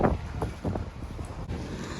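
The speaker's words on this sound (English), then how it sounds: "My goodness, it's become windy." Strong gusting wind on a rainy evening street buffets the microphone, a steady low roar with rough surges, loud and close, no voices.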